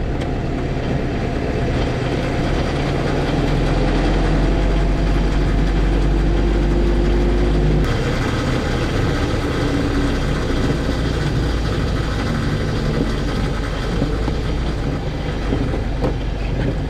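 A classic motorcycle engine idles steadily with a loud, low rumble throughout, a rattly mechanical texture riding on top, and no talking.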